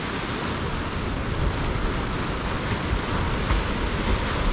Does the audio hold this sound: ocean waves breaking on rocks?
yes